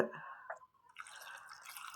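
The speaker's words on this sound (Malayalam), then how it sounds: "ഇത്രയും സാധനം ഇട്ട് വെള്ളം ഒഴിച്ച്" A few drips, then a steady stream of water splashes into a cooking pot of spices and mango, close and moderately loud.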